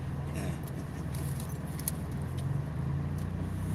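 A car engine runs rough while driving, a low, uneven rumbling drone with faint rattles and clicks over the top, steady and moderately loud inside the vehicle.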